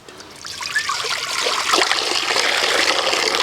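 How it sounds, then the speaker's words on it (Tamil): Water pours steadily into a kitchen vessel while a chocolate cake is being made. The stream is continuous and close, and it swells as the pour goes on. "தண்ணி ஊற்றுவா? ஊற்றுங்க ஃபுல்லாக ஊற்றுங்க."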